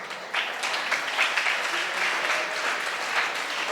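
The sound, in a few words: audience clapping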